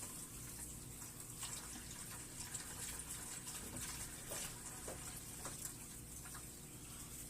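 Water draining from a 10 gallon aquarium tank, a steady close rushing and trickling that holds at an even level throughout.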